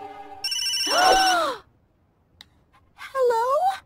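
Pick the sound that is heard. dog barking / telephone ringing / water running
telephone ringing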